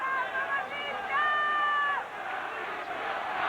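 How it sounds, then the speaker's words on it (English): A boxing crowd at a 1988 middleweight title fight chants a name in rising, sustained rhythmic waves, loud and dense, with general arena roar underneath. "this crowd chanting Patricio, Kalambay's new name, love what they see"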